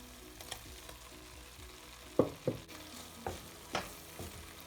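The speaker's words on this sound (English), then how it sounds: "Now I'm adding shrimps in it." Shrimps stirred in a frying pan with garlic and green onions: a soft background sizzle with several scraping, clacking stirs of a utensil against the pan, spaced irregularly, fairly close and moderately loud, no talking.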